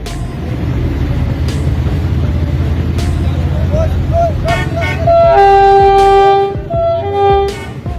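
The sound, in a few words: train passing at a railway crossing in Pakistan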